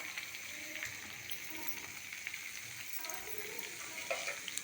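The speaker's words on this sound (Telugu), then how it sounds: "ఇప్పుడు బిన్నీస్, ఒక దుంప, ఒక క్యారెట్, ఒక బీట్ సన్నగా తరిగేసి ఇప్పుడు ఇది వేస్తాను" Thinly chopped beans, carrot and beetroot fry in a pan with a continuous soft sizzle and hiss, scattered crackles and stirring scrapes, fairly quiet throughout.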